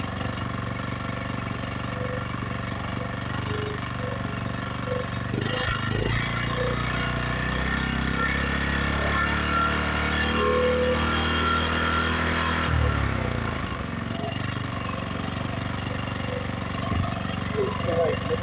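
A gasoline generator engine runs steadily up close, its pitch dropping and then rising again as the engine speed shifts over time.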